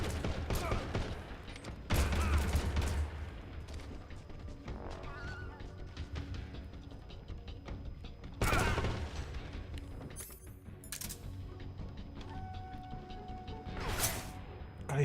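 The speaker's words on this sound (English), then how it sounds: "God, he's shooting with one hand." Enemy gunfire in Metal Gear Solid Delta: Snake Eater: bursts of shots crack out in clusters around the start and middle, mixed with game effects and music, with some voice talk in between.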